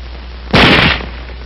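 One rifle shot, a single loud crack with a short fading tail, close by, over a low steady hum, no voices.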